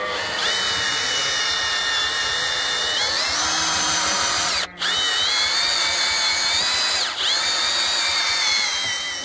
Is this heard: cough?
no